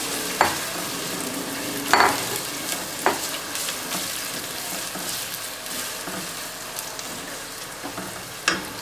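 Finely chopped onions frying in a pan for Bhojpuri chicken, a steady close sizzle with occasional sharper crackles and spoon clinks as they are stirred, no talking.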